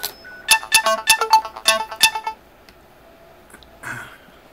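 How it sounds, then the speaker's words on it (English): Several phones, including a Nexus 7 tablet and a Galaxy Nexus, ringing and chiming together in a loud, overlapping burst of rapid electronic tones that stops abruptly after about two seconds, followed by a faint rustle. "That was my Nexus 7, my Galaxy Nexus, and my other phone going off all at the same time."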